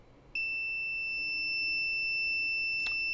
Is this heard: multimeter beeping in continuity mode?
yes